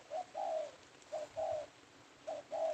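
A wild dove coos in a high mountain forest during decoy hunting, giving three evenly spaced two-part calls, a short note then a longer one, clear and fairly close over a quiet background.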